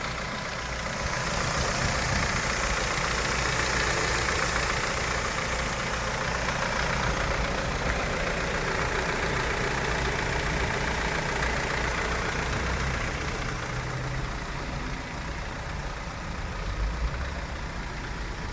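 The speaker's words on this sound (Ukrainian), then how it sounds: "Мотор працює рівно." A 2006 Hyundai Sonata NF 2.4 G4KC engine with manual transmission and 234 thousand mileage idles evenly, a constant low hum with a soft mechanical rattle that holds steady from start to finish.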